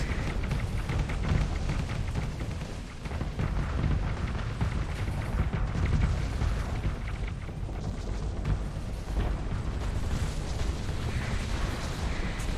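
Starsector space battle with weapons fire from a Matriarch-class ship firing Locust missiles, a dense continuous barrage of booms, bursts and explosions layered over one another, loud and without a break.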